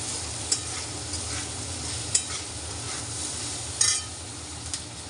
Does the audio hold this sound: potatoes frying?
yes